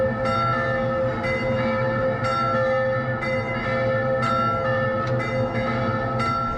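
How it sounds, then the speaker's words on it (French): Church bells ring steadily in a town with stone houses, a sustained peal of overlapping tones with periodic strikes, fairly loud and continuous with no voices. "Et en plus les cloches ont marqué mon départ vers Arles."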